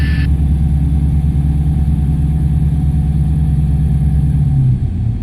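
Inside the cabin of a Diamond DA20 light aircraft, the engine drones steadily at idle with the carb heat on, a loud, constant low hum that holds unchanged until a slight dip near the end.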